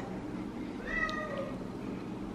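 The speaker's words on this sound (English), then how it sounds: "Very meowsy meows." A house cat gives a single short meow, faint and somewhat distant, over a quiet indoor room hum.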